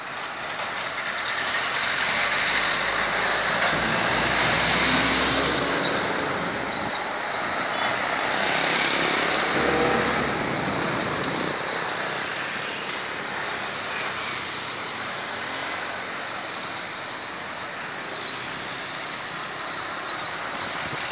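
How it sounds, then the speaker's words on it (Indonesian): Rumbling road traffic with heavy vehicles passing near the railway level crossing at Malabo Station, Indonesia, a steady high warning tone sounding over the engine noise. "Perlintasan kereta api Stasiun Malabo."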